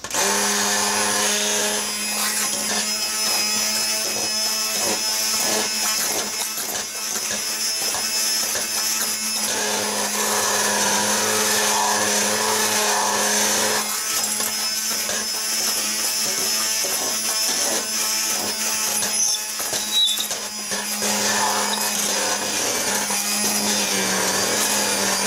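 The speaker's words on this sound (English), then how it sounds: "I'm going to get in there with the immersion blender and I'm going to blend up the rhubarb and the strawberry mixture all together" An immersion blender whirs steadily through a strawberry and rhubarb jam mixture, a loud, continuous motor drone running almost unbroken with slight dips in pitch as it works, and no talking.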